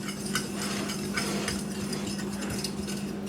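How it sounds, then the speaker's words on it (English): Brown sugar being stirred evenly into a dry rib seasoning mix, soft gritty stirring and light scraping against a bowl, steady and close over a faint hum, without speech. "I'm just going to stir that in evenly"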